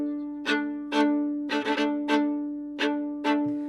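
A klezmer violin plays a Romanian slow hora rhythm: a steady sustained tone punctuated by sharp accented strokes in an uneven, lilting pulse, solo and close.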